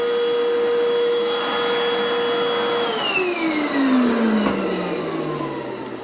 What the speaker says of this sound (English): you vacuum all the surface